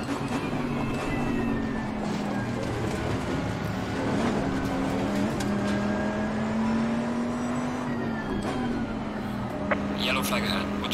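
Race car engine in Assetto Corsa Competizione at a racing circuit, a steady droning engine tone rising and falling through gear changes as the car accelerates, with a commentator-style voice talking over it.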